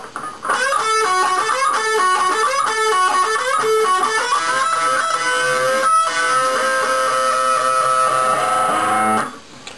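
A lead electric guitar plays a fast melodic solo with quick runs and bent notes, then sustains a held note before stopping abruptly.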